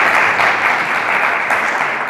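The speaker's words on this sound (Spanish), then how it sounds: "Un aplauso para Sara Millán, por favor, que es una maravilla." Audience applause at a conference on performance and pedagogy, a dense steady wash of clapping from a crowd, loud and continuous throughout with no talk over it.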